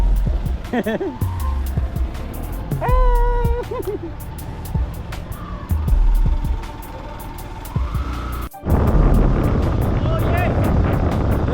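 A Ford sports car on the move, engine tones rising and falling beneath heavy wind buffeting on the microphone, with a sudden jolt near the end as the roar thickens.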